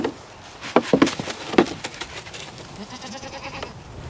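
Goats at a livestock sale barn give a few short, close bleats in quick succession early on, then fall quiet against a low murmur of barn background noise.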